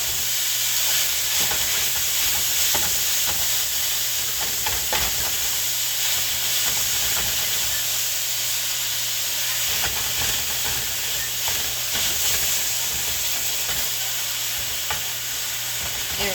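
Ground beef fries in a pan over medium-high heat, giving a steady, fairly quiet sizzle and hiss with occasional scraping and stirring clicks as the meat is broken apart, no talking.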